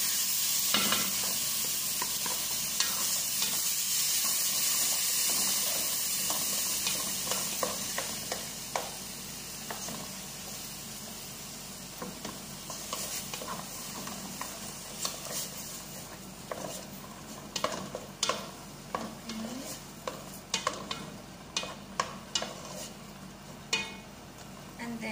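Tomatoes frying in a pan for a shrimp dish, a steady sizzle carrying through with scraping stirs that turn into sharp, spaced clacks toward the end, close and fairly quiet, no voices.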